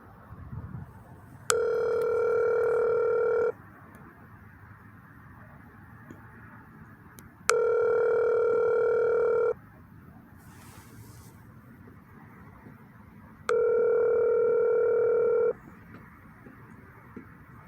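A telephone call rings out through three long, identical electronic ringback tones, evenly spaced and loud against faint background noise, with no one answering.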